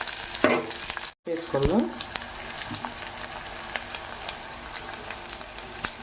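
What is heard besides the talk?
potatoes frying in a pan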